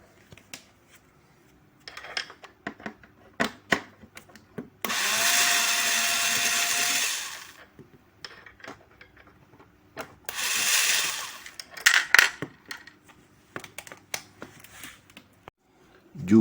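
A power screwdriver works bolts loose on a Casio CDP-200R digital piano, with two loud whirring bursts of a few seconds each among scattered clicks and knocks of handling.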